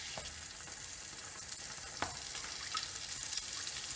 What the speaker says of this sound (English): As soon as that's hot, get your French toast straight in the pan.